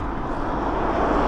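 F-18 fighter jets over RAF Waddington during a military exercise give a continuous loud, broad engine roar, steady and unbroken with no voices.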